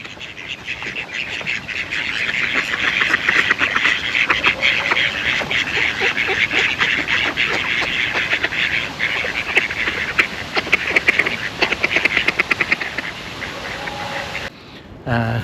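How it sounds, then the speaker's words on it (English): A flock of ducks by a pond, crowding close and expecting to be fed, quacks continuously in a loud, dense, overlapping chorus that holds steady throughout before briefly cutting off near the end. "they all came over quacking towards me"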